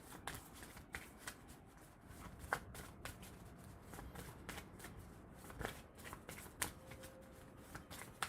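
Tarot cards shuffled and drawn by hand, a close run of riffling flicks and soft slaps in an irregular rhythm, quiet with no talk.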